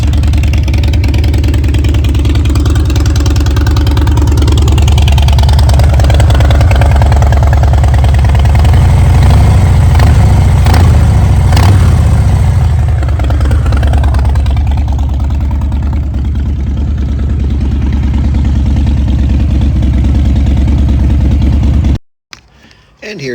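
A car exhaust idles with a loud, steady low rumble and revs up a few times in the middle, close to the microphone, before cutting off abruptly near the end.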